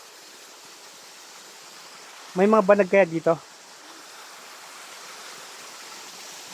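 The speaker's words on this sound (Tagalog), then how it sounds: "Talagang galing na press na press ng tubig dito guys." Clear river stream at Bagsit River flowing in a steady broadband rush that runs through the whole stretch, with a short spoken question cutting in near the middle.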